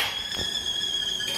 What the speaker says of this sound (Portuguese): Que a água tá gritando ali,